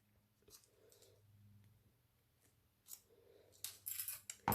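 Scissors trim ribbon tails on a handmade card, with a few quiet, close snips near the end after a stretch of near silence.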